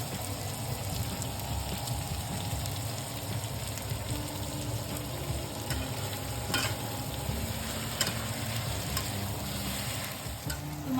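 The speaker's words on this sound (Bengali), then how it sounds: "পেঁয়াজটা একটু ভাজা ভাজা হতে থাকে" Onions sizzling in hot oil with turmeric and ginger paste for a tilapia fish dish, a steady crackling fry with occasional soft stirring clicks, close and continuous, with no talking.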